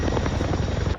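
A CH-47 Chinook helicopter drones loudly and steadily with a dense rhythmic rotor thump, close and continuous through a very short moment.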